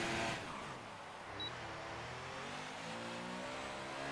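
An open-wheel race car in a sim racing game at the Austrian circuit roars steadily at high revs, up close, its engine pitch climbing gradually with no voices over it.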